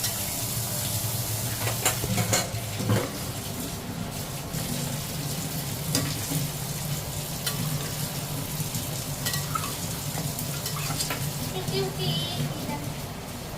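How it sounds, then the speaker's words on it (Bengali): Boiled mutton being sautéed with spices in a pan, a steady sizzle with intermittent scraping and stirring clatter close up, and a voice talking over it. "এবার আমি কষিয়ে নেব সব মটনটা যেটা বয়েল করে রেখেছিলাম"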